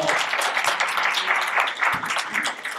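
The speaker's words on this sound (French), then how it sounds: "Merci beaucoup Laurence, on peut l'applaudir." An audience applauds a guest speaker, giving close, continuous clapping of medium loudness with a few sharper individual claps standing out.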